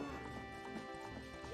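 Epona, the horse in the video game Zelda Ocarina of Time, galloping with a steady run of hoof clip-clops and a brief whinny, heard faintly under quiet game music.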